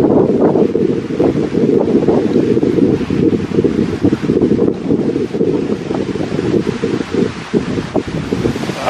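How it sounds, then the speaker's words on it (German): Strong wind buffets the microphone steadily throughout a walk outdoors, a loud continuous roar with gusty rustling and no speech. "Ist so viel Wind."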